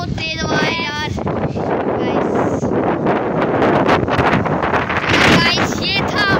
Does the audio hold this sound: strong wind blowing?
yes